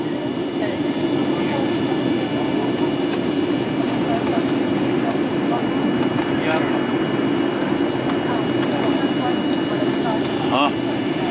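Steady, loud airplane engine roar fills the cabin as the plane climbs away from the airport in eastern Turkey, a continuous broadband drone with no breaks.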